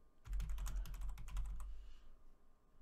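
Typing on a computer keyboard gives a quick burst of clicking keystrokes for about two seconds, close and fairly quiet, then stops.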